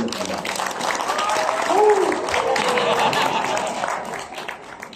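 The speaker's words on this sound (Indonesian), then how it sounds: "Tepuk tangan dulu." An audience at an Indonesian parliamentary app launch ceremony claps after an official is introduced; a crowd's applause swells and continues steadily while a voice speaks over it.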